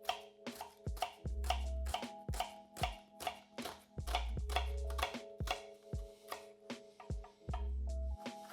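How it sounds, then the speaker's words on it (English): A knife chops ingredients coarsely on a board for chilli con carne, with steady rhythmic knocks in quick runs, close and clear, with no voices over them. "Just chop it up nice and coarse."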